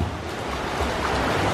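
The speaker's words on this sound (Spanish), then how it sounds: "asoma un poquito la punta de los pies, por eso salpica y el sonido que se escucha" A swimmer's feet break the surface while kicking, throwing up a steady rushing wash of splashing water that stays fairly loud and continuous throughout.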